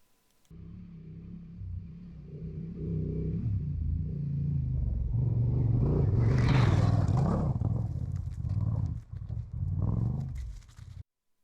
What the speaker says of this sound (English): I might let you just listen to how it climbs up here.